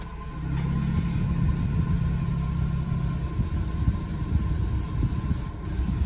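A Nissan Grand Livina engine idling steadily with the AC on, a low rumbling hum and a constant whir, close and continuous, with no talking.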